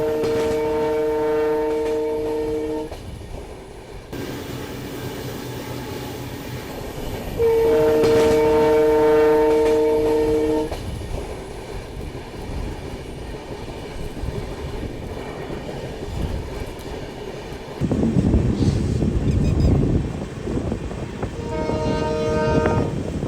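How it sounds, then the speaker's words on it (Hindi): An AC express train on a journey from Gujarat to Karnataka, near Hubli, sounds its horn in repeated loud blasts over a steady rumble of moving carriages and rail noise. "तो अभी हमारी ट्रेन जो है वो हुबली के जस्ट पहले खड़ी है।"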